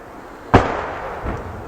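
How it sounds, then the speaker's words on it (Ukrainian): A distant enemy tank firing about a kilometre and a half away in a frontline combat setting: a single sharp boom followed by a rolling, fading echo, with a fainter thump a moment later. "Знову працює танк."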